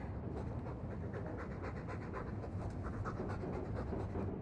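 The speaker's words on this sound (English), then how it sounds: "All that noisy dog breath, day in, day out, make him stop." A dog pants rapidly and steadily at close range in Dragon Age 2, a continuous rhythmic huffing with no pauses.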